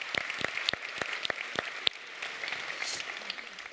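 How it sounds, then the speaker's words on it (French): Audience of over 2000 at the DevFest Nantes 2021 tech conference opening keynote applauding in a large hall, with a few sharp nearby claps standing out over a broad, steady roar of clapping. "Applaudissez-vous."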